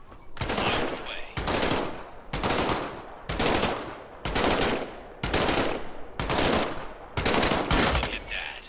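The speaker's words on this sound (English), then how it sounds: "Reach over your shoulder and grab your M1A1 submachine gun." M1A1 submachine gun firing in a video game, eight loud sustained bursts of automatic fire in steady succession, each about half a second long with short gaps between.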